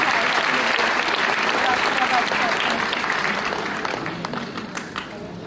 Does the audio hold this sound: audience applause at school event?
yes